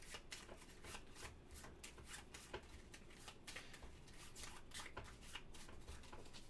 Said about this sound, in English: A quick shuffle here.